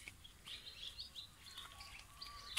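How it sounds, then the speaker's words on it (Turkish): Birds chirp and tweet in short repeated calls at a moderate distance over a quiet outdoor background; no rooster crow stands out. "Horozlar, kuşlar."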